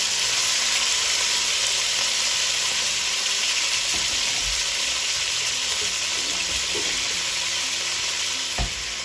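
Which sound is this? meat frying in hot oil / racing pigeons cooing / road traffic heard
meat frying in hot oil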